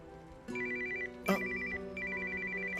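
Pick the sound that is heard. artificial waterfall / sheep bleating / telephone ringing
telephone ringing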